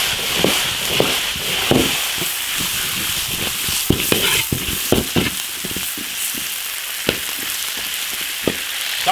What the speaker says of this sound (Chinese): 配料下锅炒熟